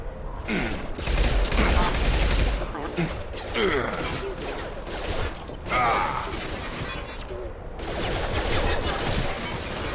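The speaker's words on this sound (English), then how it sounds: "Firing a high-impact shot!" Gunfire in the Mass Effect 2 video game, dense bursts of shots and impacts crackling over a busy combat soundscape, with synthetic in-game voices speaking throughout.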